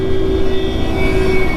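A jet aircraft passes overhead with a steady, loud roar and a sustained whine, continuous throughout with no voices.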